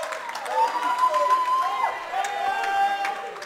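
A basketball crowd in Regan Gymnasium rises in a steady murmur of cheering and shouting, with an announcer's voice talking over it.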